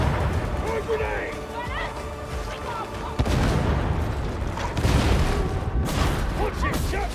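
Grenades blast repeatedly in Warhammer 40,000: Darktide, a chaotic barrage of deep booms layered with gunfire and character voices shouting over the combat, with heavy bursts landing in quick succession.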